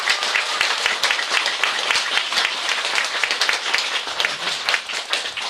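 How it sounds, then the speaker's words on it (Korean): An audience at a gathering gives a big round of applause, a dense and steady wash of many hands clapping close by that carries on for several seconds. "여러분 다시 한번 든든한 신이님께 큰 박수 주시기 바랍니다."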